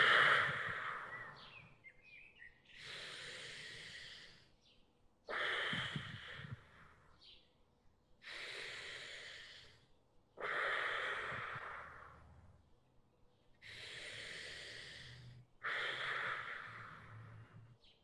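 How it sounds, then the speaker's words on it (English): Deep, slow meditative breathing during a guided fear-release meditation, four long breaths with each inhale and exhale audible as a soft, airy rush separated by brief pauses, close and quiet. "So we're going to do four breaths together"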